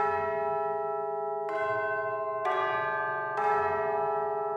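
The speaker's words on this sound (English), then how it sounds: "So those are some nice bells." Keyboard bell patch with reverb: three loud tolling bell strikes follow a sustained ringing tone, each strike ringing out long and bright and decaying slowly.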